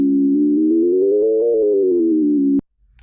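An FM synthesis tone built from a sine wave carrier and sine wave modulator, a sustained buzzy harmonic note that swells gently upward in pitch and falls back before cutting off abruptly, followed by silence.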